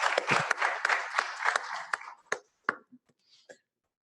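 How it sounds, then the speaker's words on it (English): A conference audience at the Caribbean Internet Governance Forum gives a brief round of applause that thins out into a few scattered, isolated claps before fading to silence. "I think that milestone deserves a round of applause"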